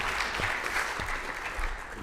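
An audience at a regional conference on artificial intelligence claps in a steady, dense round of applause, sustained and fairly close throughout.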